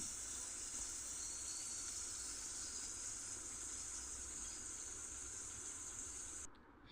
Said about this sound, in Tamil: இப்போ வெண்ணெய் கொஞ்சம் கொஞ்சமாக மெல்ட் ஆகி மேலே நுரை வருது.